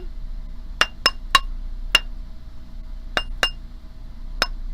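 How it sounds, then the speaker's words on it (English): A beaded wire ring is tapped into a round shape on a ring mandrel, giving sharp metallic clinks in irregular clusters of two or three, close and distinct against a quiet background. "I'm just gonna keep sort of tapping this out to make it a round shape and sort of scooching it down my mandrel."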